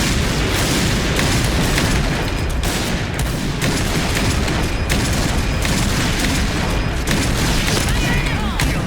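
Gunfire and explosions from the shooting game Point Blank: rapid bursts of shots and booming blasts hammer on without pause, loud and close, with faint talk beneath.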